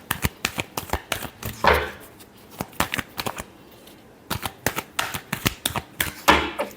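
Tarot cards shuffled close by: a steady patter of quick card slaps, broken by two brief riffling bursts, with no talking.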